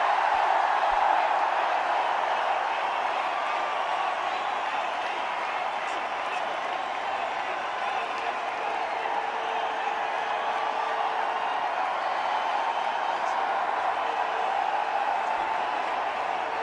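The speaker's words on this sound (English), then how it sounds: "he gets an enormous round of applause from players and fans alike" A Test cricket crowd in Indore, India v New Zealand 2016, applauds and cheers Virat Kohli's double hundred, a steady, far-off roar of clapping spread across the ground, with a commentator talking over it.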